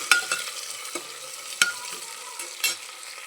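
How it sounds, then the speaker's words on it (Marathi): Spices and ingredients gently sautéed in a pan, a quiet sizzle punctuated by sharp spatula scrapes and taps at irregular intervals, close by with no talking. "हे जिन्नस छान असं आपल्याला परतून घ्यायचे आहे, जास्त भाजायचं नाही, फक्त परतून घ्या."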